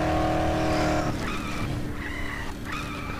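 Car in the video game Dead Island, its engine roaring loudly and then dropping off as the tires squeal through a skid with repeated screeches, close and with no talk.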